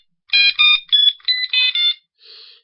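Test tone from an alarm detector and control unit: a sequence of six short, bright electronic beeps in a quick irregular rhythm, followed by a fainter final tone, loud and close with no talking.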